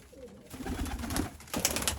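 Pigeons coo repeatedly around a home loft in Sri Lanka, soft low throaty calls rising and falling close by, with a few brighter flutters and rustles toward the end.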